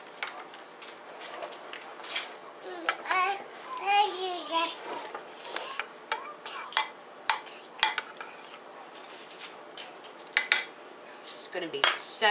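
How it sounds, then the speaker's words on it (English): A utensil spreads sauce over homemade lasagna made with ground chuck, sausage, ricotta and cottage cheese, giving repeated close clinks and scrapes against a pan and dish, with a voice chattering in the background. "So now I'm going to put the more sauce on this. And spread it out."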